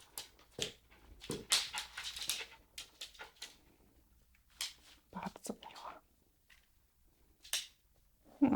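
A very young West Highland White Terrier puppy whimpers and yips in short, high, intermittent bursts close by, with a person talking softly in between.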